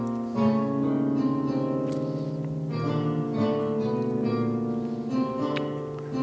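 Plucked guitar notes generated from tweet data play a steady melodic sequence, note after note at a moderate pace, clear and close with no voices.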